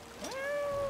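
A single rising meow from a cat in a video game, clear and close, sliding upward and then holding a steady tone for about a second.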